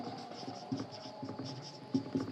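Pen writing on paper during a Bengali class 10 maths lesson, a soft continuous scratching with small rhythmic strokes and a few brief louder taps, close and fairly quiet, with no talking.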